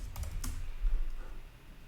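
Brief burst of typing on a computer keyboard, a few quick close key clicks at the start and then fading, alone without talk.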